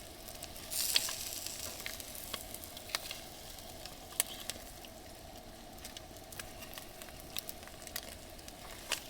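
An omelet fries in a pan inside a van, giving a steady, quiet sizzle with faint crackles and a brief louder burst near the start, heard alone without talk.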